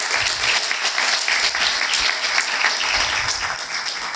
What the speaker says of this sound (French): vous pouvez aussi les applaudir, ils le méritent.